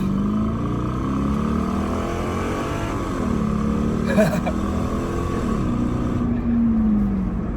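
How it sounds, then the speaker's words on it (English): A Lexus LS engine drones loudly and revs up under throttle, its pitch climbing and then easing back down, then holding a steady roar. "We'll give it some gas here to show you what we're working with."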